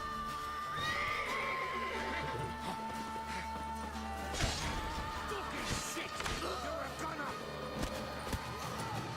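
A horse neighs loudly, with hooves clattering and sharp impacts in a busy soundscape from the video game The Witcher 3: Wild Hunt while someone talks.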